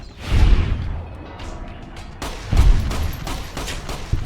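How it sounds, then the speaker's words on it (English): Gunfire from several enemies in the Dead Money add-on of the video game Fallout: New Vegas, with loud shots and bursts crashing in at about half a second and again at two and a half seconds over a steady din of continuing fire. "there's like more than 6 people shooting at me at once"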